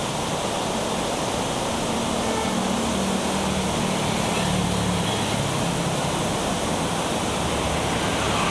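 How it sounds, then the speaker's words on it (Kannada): The Shimsha River in Maddur taluk, Mandya district, runs in flood after continuous rain, giving a constant, loud roar of rushing water that stays unbroken throughout, with no voices. "ಮಳೆಗೆ ಬೋರ್ಗರೆಯುತ್ತಾ ಹರಿತಾ ಇದೆ ನದಿ."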